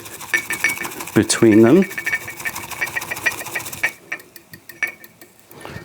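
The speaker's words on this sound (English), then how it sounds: "we can go into a whisking motion. So just a W shape, let's just whisk it up" A bamboo whisk beats matcha tea into a froth in a bowl, a rapid, dense scratchy rhythm close by that breaks off near the end, with a voice talking briefly over it.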